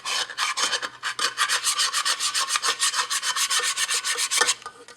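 A pot scraper rasps repeatedly across the scarred bottom of a pot to remove burnt-on rice, producing a steady series of close, scratchy strokes in a quick, even rhythm with no voices.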